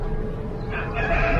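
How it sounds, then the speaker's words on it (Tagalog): A rooster crows amid farm animals outdoors in Saudi Arabia, the call rising over a steady low rumble of background noise in the second half, moderately loud and without speech. "Ayun ang manok."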